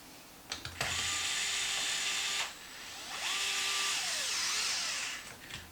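A power tool drives a screw into a Traxxas MAXX RC truck during a pinion and spur gear change, with two whirring runs of the motor, the second winding down, close and moderately quiet.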